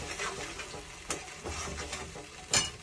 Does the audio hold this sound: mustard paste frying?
yes